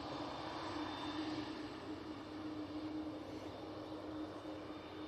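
A steady, faint broadband roar of an Aer Lingus airliner's engines carries across Manchester Airport, a distant continuous rumble with a light tonal whine, no voices.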